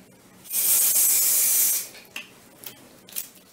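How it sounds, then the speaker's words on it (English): A steady hiss of a spray bottle applying cleaner along tile grout lines lasts just over a second, close up, followed by a few light taps and scrapes. "Just spray following the grout line."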